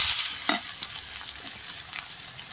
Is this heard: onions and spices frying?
yes